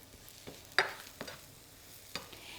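Mushrooms fry quietly in a pan while being stirred, soft scraping strokes and a few sharper clacks of the utensil over a faint, steady sizzle.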